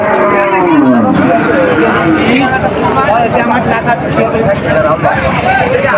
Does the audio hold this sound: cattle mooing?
yes